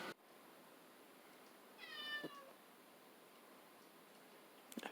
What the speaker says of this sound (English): Finally got her meow